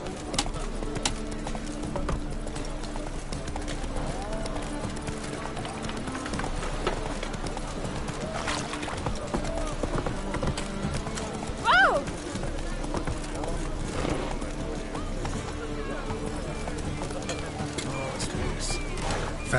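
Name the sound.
horse Roach galloping, hooves clip-clopping, from a video game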